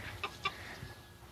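A chicken perched up in a tree clucks outdoors, giving two short, sharp clucks close together near the start, then quieter soft sounds over light background noise.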